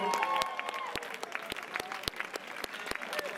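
Audience applause at a live concert at Plaza Jazz Fest in Havana, a moderate spread of claps with some sharp individual hits and faint sustained tones from the stage.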